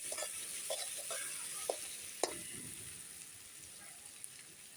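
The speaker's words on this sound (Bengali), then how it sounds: "ভালো করে ভেজে নিই লবণ হলুদ দিলে কালারটা বেশ ভালো হয়" Chicken fries in a pan with salt and turmeric, giving a steady low hiss with a few sharp clicks from stirring.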